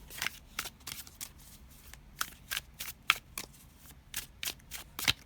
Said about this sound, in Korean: 그럼 먼저 타로를 뽑아볼게요